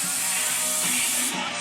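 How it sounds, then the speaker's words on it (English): Cooking spray hisses from a can onto a rubber spatula over a kitchen sink, a steady nearby spray lasting under two seconds and ending abruptly. "So now take your cooking spray, get your rubber spat over the sink."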